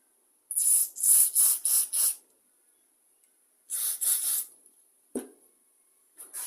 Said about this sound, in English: Put some more carb clean through it.